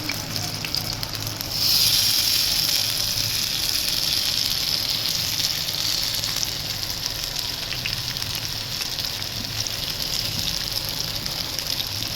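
Marinated fish fries in cold-pressed groundnut oil with a steady, loud, broadband sizzle that jumps up sharply as the fish goes in, then holds as a continuous hiss with no talking.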